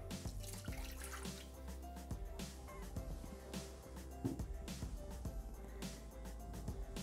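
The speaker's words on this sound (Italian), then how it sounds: "Iniziamo la ricetta mettendo all'interno del boccale l'acqua" Water runs steadily from a tap or jug into a Thermomix (Bimby) TM6 mixing bowl, a continuous splashing trickle that fills the whole stretch with no talk over it.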